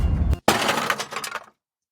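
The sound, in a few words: car crash, breaking glass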